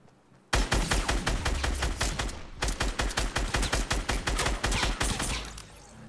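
Automatic weapon gunfire in Fortnite, a long sustained burst of rapid, evenly spaced loud shots emptying a full magazine, close and dominant with no talk over it.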